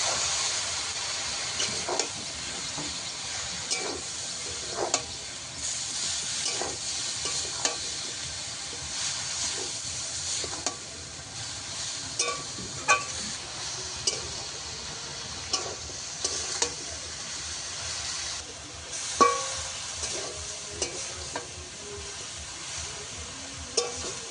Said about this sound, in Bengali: সব কিছু একসঙ্গে ভালো করে কষিয়ে নেব